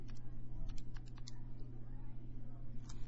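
An equation is keyed into a graphing calculator, a quick series of sharp, close button clicks over a steady low hum, with a brief pause before a final few presses.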